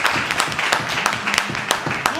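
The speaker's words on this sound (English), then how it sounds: "You all should clap for Mr. Umar." A small group claps in a scattered, brisk round of applause, fairly close, with voices mixed in.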